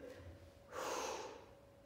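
A single strong breath out during a Pilates mat exercise, close and airy, rising suddenly after a quiet moment and fading slowly over about half a second, with no speech.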